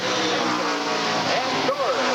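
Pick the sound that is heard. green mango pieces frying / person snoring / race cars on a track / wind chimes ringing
race cars on a track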